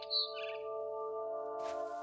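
A bird gives a brief, bright chirp at the start in What Remains of Edith Finch, then sustained game music carries on with a soft rustle near the end.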